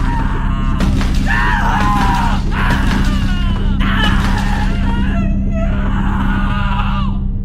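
A man screaming while being stabbed in a film scene: repeated loud, strained cries in several bursts over a constant low hum, with gasping breaths between them.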